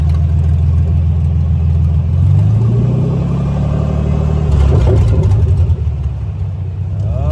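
A 1946 Willys CJ2A jeep drives along, its engine a loud, close rumble that climbs and settles as it moves off from a ditch, with faint bumps and rattles near the end.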